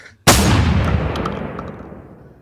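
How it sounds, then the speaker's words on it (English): A single loud gunshot on New Year's cracks sharply after a brief near-silence, then rolls into a long echoing boom that slowly fades, with a few faint pops in the tail. "Those were gunshots, bro."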